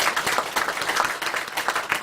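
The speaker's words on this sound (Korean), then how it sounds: "오늘 박사님에게 박수 한번 올려주시기 바랍니다." Audience applause at a church seminar, a couple of seconds of dense, lively clapping from a roomful of people, close and fairly loud with no speech over it.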